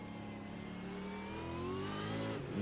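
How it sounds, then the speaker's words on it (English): V8 Supercar race car engine at full throttle, a steady high rising whine of revs building with strong harmonics, heard up close as if from onboard, with no talk. "I can hear his car in my ear."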